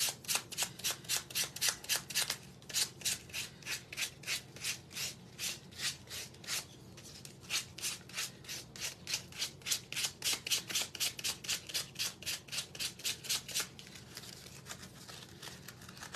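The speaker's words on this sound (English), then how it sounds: "The sandpaper, I believe, is medium grit." Wood is rubbed by hand with medium grit sandpaper for a primitive triangle Santa craft, a close, steady run of rhythmic rasping strokes with a brief pause midway, fading to quieter scraping at the end.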